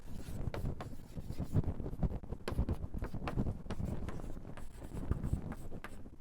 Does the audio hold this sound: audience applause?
no